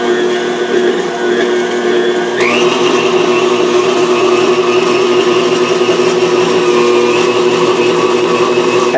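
An electric mixer whipping cream cheese for pumpkin spice whoopie pie filling, a loud, constant motor whine with a steady pitch that jumps upward briefly once, running nonstop with nothing else over it.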